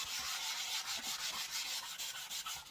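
Sandpaper scuffing a sealed furniture surface in quick, rhythmic back-and-forth strokes, a dry close rasping repeated steadily throughout.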